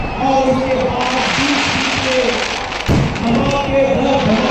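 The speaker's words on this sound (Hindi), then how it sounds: "ये जो ऊपर जाके धमाका करता है, इसका नाम कपूर सिंह है" Fireworks bursting overhead at a Ravan Dahan Dussehra celebration in a stadium in Bikaner, with deep booming thuds over a noisy festival crowd, one sharp heavy blast near the middle and steady background roar.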